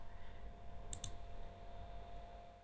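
A computer mouse gives two quick, crisp clicks close together while working in ArcGIS Pro, standing out against a faint steady room hum.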